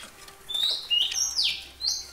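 A caged male songbird from Nam Cat Tien gives three or four loud, clear whistled chirps and rising calls close by, with short pauses between phrases and no talking.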